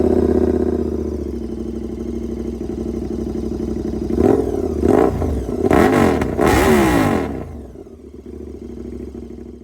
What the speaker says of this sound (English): then you can hear what it's like with no silencer at all